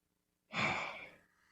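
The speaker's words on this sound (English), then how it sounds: "let's do a little deep breath." A single deep breath, taken slowly and let out in one soft, close exhale that fades over about a second, with no talking.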